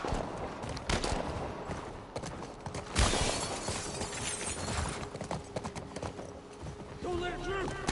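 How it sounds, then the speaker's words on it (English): A horse gallops in The Last of Us remake, its clip-clopping hooves running through a combat scene with shouting voices, a sharp shattering crash midway and a brief whinny near the end. "Aim for the horse!"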